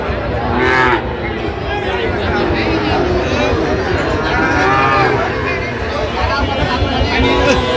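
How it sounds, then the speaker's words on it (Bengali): Young Sahiwal bull calves moo repeatedly at a cattle market in Naogaon, several close, drawn-out calls rising over steady crowd chatter and bargaining voices. "ষাঁড় বাচ্চা"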